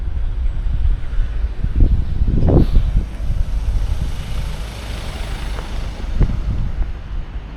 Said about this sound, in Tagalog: Ang marinig mo lang mga sasakyan, jeep, taxi, motor.